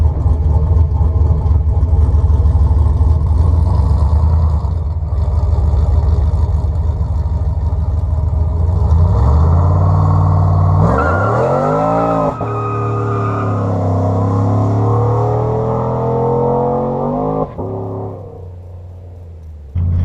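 A cammed Chevrolet Silverado pickup accelerates hard with its tires spinning, a loud rough engine roar rising in pitch through the gears with squealing tires, close and dominant for about twenty seconds before easing off.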